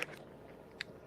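Crunchy chips, Doritos or Funyuns, are chewed close to the microphone, with two sharp crisp crunches, one at the start and one near the end, over faint quiet chewing.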